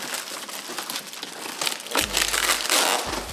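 Branded packing tape on a shipped package crinkles and crumples in close, busy bursts that grow louder toward the end, with a few low thumps as the parcel is handled.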